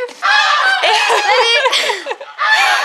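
Loud, harsh honking from geese close by, a rapid chorus of overlapping calls with a brief pause before another burst.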